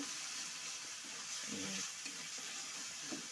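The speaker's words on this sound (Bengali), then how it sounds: "এখন আমি দিয়ে দেব মটরশুঁটিগুলো, ভালো করে নাড়ব।" Green peas are stirred in a frying pan over an even, faint sizzle, with soft scraping strokes of the spoon in the middle stretch; the sound is quiet and close, with no talking.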